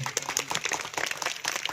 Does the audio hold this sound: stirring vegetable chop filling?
no